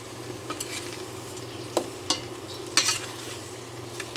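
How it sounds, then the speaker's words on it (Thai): Curry paste for a tilapia jungle curry stir-roasting in a pan, with a soft steady sizzle broken by a few sharp scrapes and clinks of a spatula, close and moderately quiet, no talking. "คั่วให้เครื่องหอมนะคะ สักแป๊บหนึ่ง"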